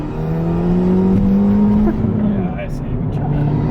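Subaru WRX running a new tune pulls hard from second gear, its engine note droning loud and close throughout, with people talking over it inside the car.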